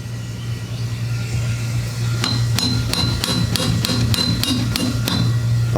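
A heavy, blunt screwdriver taps about nine times in a quick, even series against a part of a vintage 1980s Toro Recycler aluminum lawnmower, with sharp, close metallic knocks over a low steady hum.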